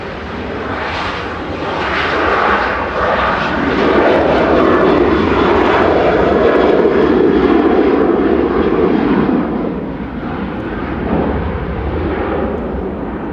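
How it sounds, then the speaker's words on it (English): A Ryanair jet airliner taxis for departure to Oslo at Manchester Airport, its engine roar building to a loud, rumbling peak mid-clip before easing and rising again, heard alone without talk. "Ryanair rolling to Oslo with flight"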